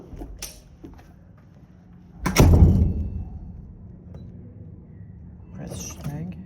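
A Schlage keypad deadbolt lock on a door makes a few faint clicks, then a loud mechanical clunk and whirr as the bolt throws, followed by softer rattling, with a voice speaking nearby.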